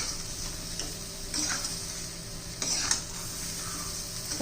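Okra sizzles gently in a hot pan as a spoon stirs it, with soft scraping strokes and occasional clinks against the pan, faint and close, with no talking.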